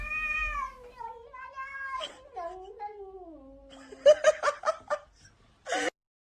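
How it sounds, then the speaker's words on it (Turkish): A cat gives a long, drawn-out, wavering meow that slides up and down in pitch, followed by bursts of people's laughter and a short vocal sound at the end. "kedi gerçekten bir şeyler söylüyor orada"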